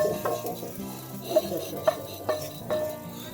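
A stir fry sizzling in a hot pan just after the heat is turned off, a soft steady hiss broken by several sharp clinks of a utensil against the pan and dishes as food is moved and plated.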